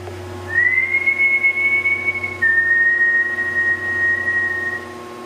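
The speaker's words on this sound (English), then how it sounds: "If I whistle, can you whistle back?" A person whistles a long, clear, steady tone that dips once to a slightly lower pitch, loud and close over a low hum inside a lighthouse.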